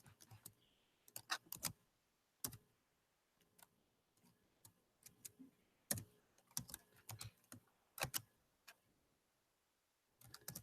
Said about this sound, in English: now all you have to do is make sure you type in the answers